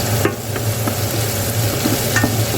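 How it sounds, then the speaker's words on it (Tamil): Onions and vegetables sautéing in a pan for a Jaffna-style egg curry, with a steady sizzle and repeated scraping stirs throughout, fairly loud and close, no talking. "எல்லாம் மிக்ஸ் பண்ணிவிடுவோம் நல்லா வதங்கி வரட்டும்"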